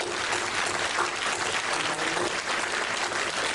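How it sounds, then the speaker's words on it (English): Dense applause from a gala audience at the 2014 KCC Gala fills the room, steady and loud throughout with no talk over it. "let's give them a big round of applause"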